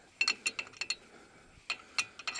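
A 17 mm wrench ratchets on a brake caliper bolt during front brake pad replacement on a Dacia Logan, giving quick bursts of sharp metallic clicks in two clusters, close and fairly quiet.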